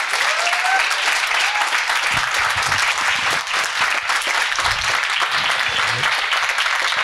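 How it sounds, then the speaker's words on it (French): An audience at an investing talk breaks into sustained, dense applause for a guest, loud and continuous throughout with a faint bit of crowd noise underneath. "Donc un tonnerre d'applaudissements"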